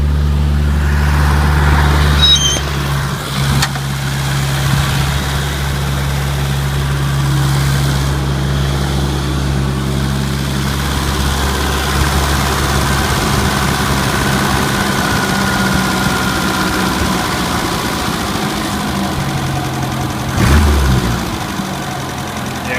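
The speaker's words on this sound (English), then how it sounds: "Idling really high. See if we can idle it down." A 1980 Chevy LUV engine idles close by at a fast, steady pace, starting with a brief rev and then holding a continuous rumbling drone with a small bump near the end.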